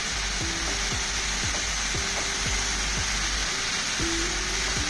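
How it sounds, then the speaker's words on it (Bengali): Ridge gourd seasoned with salt and turmeric is stirred in a pan with a spatula, scraping in short repeated strokes over a steady, soft sizzle, close and with no talk. "একটু নাড়াচাড়া করে দিচ্ছি সুন্দর করে, নুন হলুদটা যাতে ভালো করে মিশে যায়।"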